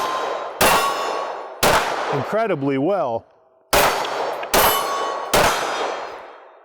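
Sharp gunshots each followed by a ringing metallic clang from steel targets at an outdoor range, about five evenly spaced hits; a brief whistled or hummed interlude sits between them and a voice speaks briefly.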